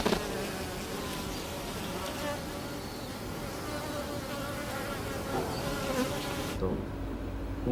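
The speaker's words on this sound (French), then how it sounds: "les abeilles japonaises se transmettent-elles en faisant vibrer leurs ailes" Japanese honeybees vibrating their wings inside the hive, a dense, continuous buzzing drone from many bees at close range that cuts off abruptly near the end.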